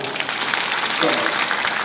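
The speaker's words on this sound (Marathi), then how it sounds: "त्याच्यामुळं एकदम जोरदार टाळ्या वाजवा" Loud audience applause at a lecture series, dense continuous clapping from a close crowd that swells slightly in the middle.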